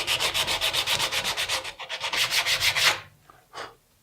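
Coarse 60 grit sandpaper rasping back and forth on a guitar bridge in fast, even strokes, loud and close, then stopping abruptly with one last short scrape after a pause.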